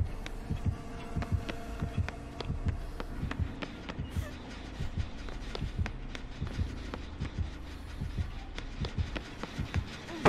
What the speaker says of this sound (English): I can hear heartbeats.